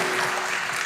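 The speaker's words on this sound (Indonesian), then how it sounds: "Beri tepuk tangan bagi Tuhan" A church congregation claps together in a dense burst of applause, loud and continuous through the short moment.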